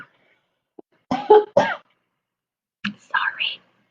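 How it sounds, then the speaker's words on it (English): A few short coughs break out close by, followed by a throaty clearing and a breathy vocal sound, with silence between. "a little bit of a coughing there"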